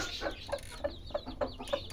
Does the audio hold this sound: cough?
no